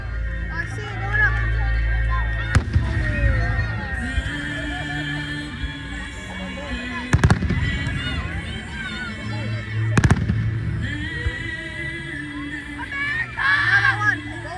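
Fireworks exploding at an outdoor event, heard as three sharp, loud booms spaced several seconds apart over crowd noise and people talking nearby, with a crackle near the end.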